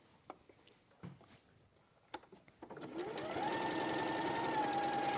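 A few soft handling clicks and taps, then a sewing machine starts up and runs steadily, whirring as it sews patterned fabric to cream fabric, moderately quiet and close.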